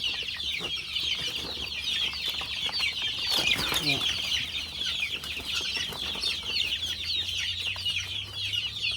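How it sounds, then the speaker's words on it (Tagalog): Chickens clucking nearby at a small poultry seller's place, a steady scatter of clucks and calls with brief wing flaps, fairly quiet and without talk. "naihiwalay na yung 20 piraso ng mga manok"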